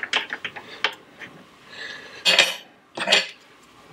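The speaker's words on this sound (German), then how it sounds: "Und hier perfekt alles abzuschrauben." Metal clinks and ratcheting from a 13 mm wrench loosening bolts on a Toro eFlex reel mower during disassembly, a quick cluster of small taps followed by two louder scraping turns, close up.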